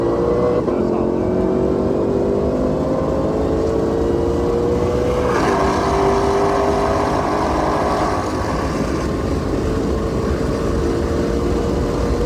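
Race car on a hot lap at Road America, heard from inside during a ride-along: a loud, continuous engine drone climbing steadily in pitch, dipping at a gear change midway, then pulling up again under constant wind and road roar.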